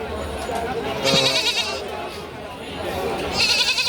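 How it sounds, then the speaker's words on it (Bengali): Goats bleat repeatedly amid a busy livestock market crowd, with loud chatter and voices mixing around the animal calls. "এই হাটে প্রচুর পরিমাণ ছাগল আমদানি আছে"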